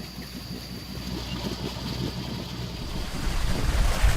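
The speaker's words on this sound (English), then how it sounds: "Alright, so we are sailing, full sails, no motors." A sailboat running under full sail with no motor off Nova Scotia, with a steady rush of water and waves along the hull and wind buffeting the microphone, swelling slightly louder toward the end.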